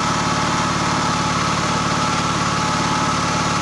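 An engine running on old sump oil drained from oil changes, making power for the house batteries, drones steadily and loudly with an even, rumbling pulse and no talk.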